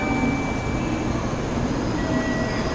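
Inside a Shinkansen bullet train waiting at the platform, a steady low rumble and hum of onboard equipment carries on throughout, with faint tonal whines, loud and constant, and no speech.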